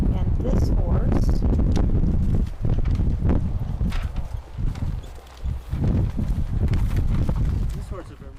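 Horse hooves clip-clop steadily during a show ride by a 7-year-old mare at Franktown Meadows, close and rhythmic under an announcer's continuous commentary, with some wind noise.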